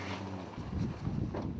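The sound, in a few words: strong wind on a fishing boat at sea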